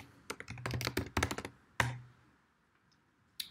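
Quick bursts of typing on a computer keyboard, a cluster of close, crisp key clicks followed by a pause and a couple of isolated taps; quiet and without speech.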